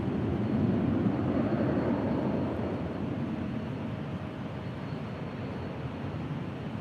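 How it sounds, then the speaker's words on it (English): United Airlines Airbus A320 arriving at Los Angeles International Airport from San Francisco, a steady broadband jet roar that is loudest early on and then holds a constant, even rumble with no voices. "Next arrival here on the north side is United Airlines flight 2166 coming in from SFO on an A320"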